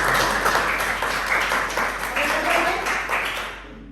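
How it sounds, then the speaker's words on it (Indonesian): A small group in a Quran recitation class claps for a student, a steady patter of hands lasting several seconds before fading, with a voice faintly heard underneath. "Tepuk tangan dulu untuk Anda"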